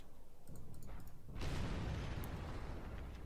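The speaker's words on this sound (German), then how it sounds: "aber mein Motor explodiert." Tank engine exploding in the War Thunder video game, a sudden loud burst that swells into a sustained roaring rumble after a stretch of lower battle noise.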